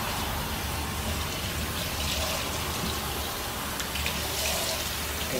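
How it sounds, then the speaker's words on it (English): Warm water running steadily through a girl's hair as deep conditioner is rinsed out, a continuous close splashing gush like a faucet or shower stream, with no talking. "Miss D is rinsing the conditioner out. And she said she's doing it with warm water"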